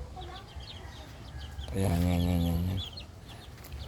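Chickens and chicks on a small farm cluck and peep in a busy background chatter, with one loud, harmonic fowl call rising briefly in the middle; a voice is heard at the start.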